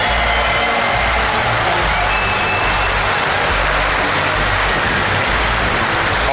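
Crowd at a StarCraft II WCS Season 2 Finals esports event applauding and cheering for the player Scarlett, a dense, steady wash of clapping that holds loud throughout.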